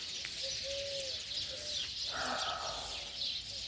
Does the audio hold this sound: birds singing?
yes